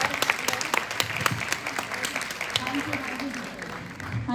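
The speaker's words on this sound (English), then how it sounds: "Let's give a big clap for them." An indoor audience at a teachers' event claps in sustained, dense applause that holds steady for several seconds before thinning slightly, with some voices mixed in.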